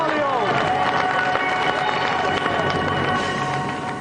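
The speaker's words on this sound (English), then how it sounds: "let's give another round of applause for our two guests today" A television game-show studio audience applauds and cheers its two guests, a broad, continuous wash of clapping from a crowd that stays loud throughout and tapers slightly at the end.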